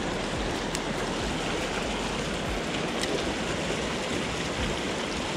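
A Colorado trout creek rushing past nearby, a steady, even wash of flowing water with no voices over it.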